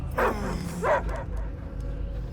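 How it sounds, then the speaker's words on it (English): Cosmo, the space dog in the Guardians of the Galaxy video game, gives two quick, close barks over a steady low game-soundtrack hum. "I hear only barking."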